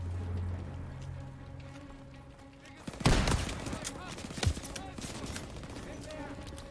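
Shotgun gunfire in Call of Duty: WWII, with a loud blast followed by a rattling burst of shots and another sharp report, all over steady game ambience.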